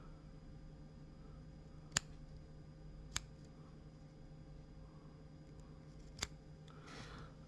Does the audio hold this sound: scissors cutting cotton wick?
yes